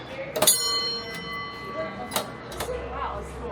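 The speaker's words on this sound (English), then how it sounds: "And then ring the bell, Ward Kimball." A few sharp metallic bell strikes ring out, spaced unevenly, each leaving a bright lingering tone in a quiet room.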